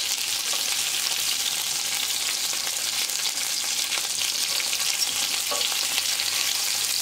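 Chicken shish skewers fry slowly over medium heat in a pan, giving a continuous, even sizzle that is close and alone throughout with no talk.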